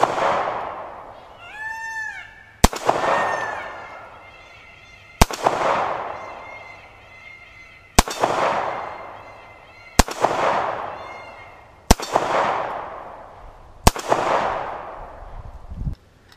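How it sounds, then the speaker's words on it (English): A handgun fires seven rounds downrange outdoors, each shot a sharp loud crack with a ringing decay, spaced irregularly about two seconds apart, with faint background noise between shots. "we're going to go ahead and fire 7 rounds downrange"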